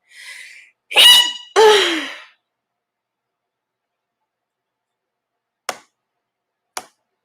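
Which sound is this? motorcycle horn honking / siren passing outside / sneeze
sneeze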